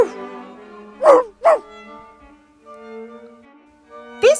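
A person's voice imitates a dog barking with short woof-like calls, a quick pair and then one more, clear and close during a children's story read aloud.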